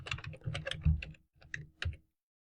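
Typing on a computer keyboard, two quick bursts of close, crisp key clicks with a short pause between, quiet and alone.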